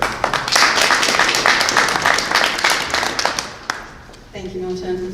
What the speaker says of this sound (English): Let's give a round of applause for Wina Guzman, our Water Department Director.